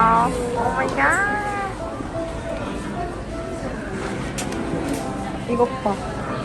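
A cat meows several times at a shopping mall, short rising and falling cries heard over crowd babble and nearby voices, with a couple of brighter squeaky calls near the end.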